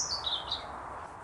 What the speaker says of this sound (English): There's a little blue tit.